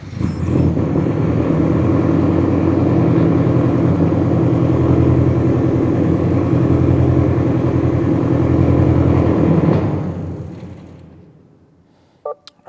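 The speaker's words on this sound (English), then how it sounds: "now that we got our fuse unplugged, we're going to go ahead and start it" A Subaru BRZ engine runs with its fuel pump fuse pulled, idling steadily and loudly with a rhythmic mechanical pulse for about ten seconds before sputtering and dying out, followed by near silence and a couple of faint clicks.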